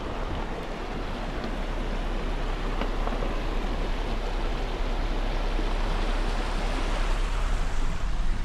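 Clean water flows in a mountain creek at Lytle Creek, a steady, loud, broadband rush that continues without a break throughout.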